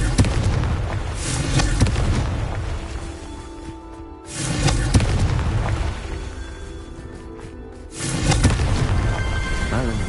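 Fiery Confringo spell blasts in the video game Hogwarts Legacy, three loud booming bursts at roughly four-second intervals, each with a crackling decay, filling the scene without speech.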